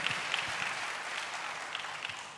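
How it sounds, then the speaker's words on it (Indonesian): Church congregation applauding, a dense steady wash of clapping from many hands in a large room, moderately loud and continuous throughout with no speech over it. "Berikan tepuk tangan bagi Tuhan."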